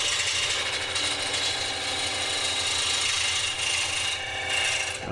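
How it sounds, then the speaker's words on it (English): A gouge makes a push cut on very dry, hard, brittle Bradford pear wood turning on a lathe, a continuous loud raspy shearing drone under the steady hum of the machine. "I'm doing a push cut."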